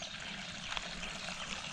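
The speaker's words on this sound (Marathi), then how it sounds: "पाणी कसं झुळझुळ झुळझुळ वाचतंय बघा की" Water trickles and flows in a steady, soft stream, a continuous faint burble with no voices over it.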